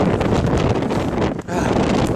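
Strong wind buffets the microphone outdoors in snow in loud, rough roaring gusts, briefly dipping before surging back.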